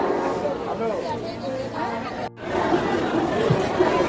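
Crowd chatter fills a train carriage at Howrah station in Kolkata, a dense babble of many overlapping voices close around, with a brief dropout midway and occasional laughter.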